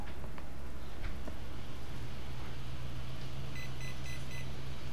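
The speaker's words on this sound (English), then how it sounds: "Four beeps" A short run of high electronic beeps, about four, from an RC car's electronics signalling a 4S battery setup, sounding near the end over a steady low hum and background noise.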